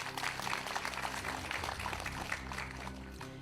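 Studio audience on a quiz show clapping steadily for a superfinalist, a dense, continuous wash of applause with music underneath and no voice over it.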